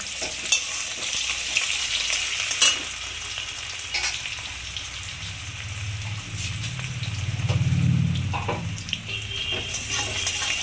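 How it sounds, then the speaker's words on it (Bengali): Bay leaf and a little onion frying in a pan with cumin seed tempering, for a thin egg and potato curry: a steady close sizzle with occasional stirring clatter and a brief swell of louder frying near the end. "তেজপাতা দিলাম, পেঁয়াজটা অল্প দিলাম।"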